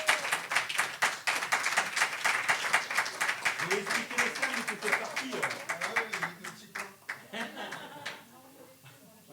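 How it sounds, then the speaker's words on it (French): An audience at a slam poetry evening in Cannes claps for a performer named Anne, with steady applause that thins out toward the end, and speech and a few chuckles over it. "donc on a applaudi très fort Anne."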